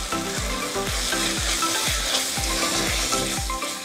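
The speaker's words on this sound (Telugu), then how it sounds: "బిర్యానీ మసాలా పౌడర్ అలాగే కారం వేసిన తర్వాత 1 నిమిషం ఇలా వేపుకోవాలి" Biryani masala powder and Kashmiri chilli powder frying for a prawn biryani, a steady close sizzle with regular thudding stirring strokes throughout and no voices.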